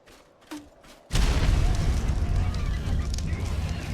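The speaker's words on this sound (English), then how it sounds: "So this is the incendiary round." An incendiary round from a forged grenade launcher in ARK bursts with a sudden loud boom after a quiet start. A roaring, crackling fiery rumble follows and holds steady to the end.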